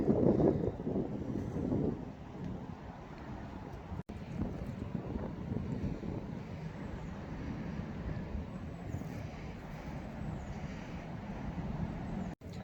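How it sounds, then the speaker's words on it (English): Strong wind buffets the microphone outdoors at tennis courts in a constant low roar, gusting unevenly for the whole stretch with no other clear sounds. "I can't put it on a tripod, it's just way too windy."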